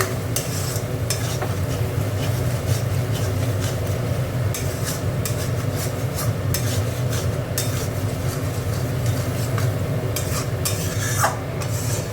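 Spoon stirring chili powder and turmeric in hot oil in a pan for a raw ar fish curry, a steady soft scraping with low sizzling that continues without pause, with occasional metallic clinks against the pan.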